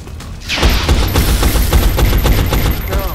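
Rapid volleys of soldiers' gunfire in the turn-based strategy game XCOM: Enemy Unknown, a dense, loud burst of repeated shots that starts abruptly and keeps rattling for about three seconds, with no voices over it.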